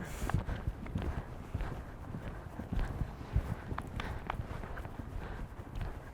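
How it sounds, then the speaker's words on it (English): A horse cantering during an eventing masterclass at World Horse Welfare gives faint, rhythmic hoofbeats, a steady bouncing clip-clop in a quiet outdoor setting. "this horse has got that lovely bounce to the canter."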